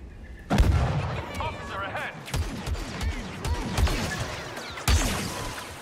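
Blaster gunfire in Star Wars Battlefront 2, with several sharp shots and a booming impact amid game action, heard under someone talking over the gameplay.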